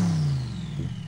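A Rezvani Beast supercar engine of 1000 horsepower revs loudly at close range, a deep throaty drone that drops in pitch as it eases off, with a faint high whine above.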